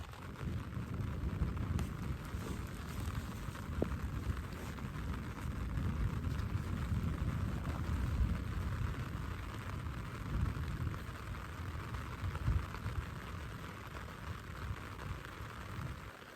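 Steady, dense rain hiss on a poncho shelter during an overnight rainstorm, with rolling thunder rumbling underneath, continuous and fairly loud throughout, no voices.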